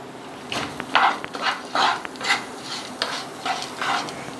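Lemon rice being stirred and mixed in a pan, heard up close as repeated scraping strokes in an uneven rhythm over a faint background hiss.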